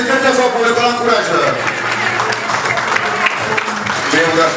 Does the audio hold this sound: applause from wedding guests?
yes